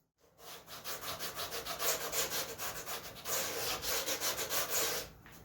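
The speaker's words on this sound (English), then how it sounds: "I hold my sanding block level this way, and I sand in that area" A sanding block rubs along the side of a balsa model airplane fuselage in steady, rhythmic back-and-forth strokes, close and fairly loud for about five seconds with no talking.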